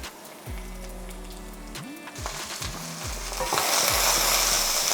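Onions dropped into canola oil in a pan heated to 375 degrees for a kimchi and okra stir-fry, the sizzle building quickly to a loud, dense hiss with stirring, under background music.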